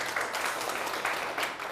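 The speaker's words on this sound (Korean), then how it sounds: "박수 한번 주세요." Brief audience applause at a talk, a short burst of many hands clapping at moderate volume.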